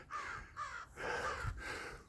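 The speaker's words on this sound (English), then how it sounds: "There's a crow up there." A crow caws overhead outdoors, three harsh, loud calls in quick succession, each drawn out and rasping, heard alone without talk.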